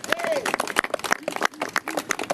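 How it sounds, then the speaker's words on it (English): Crowd of public housing residents clapping at an outdoor Coney Island gathering, dense applause that runs under a speaker's amplified voice. "Give yourselves a big round of applause for coming out in full force"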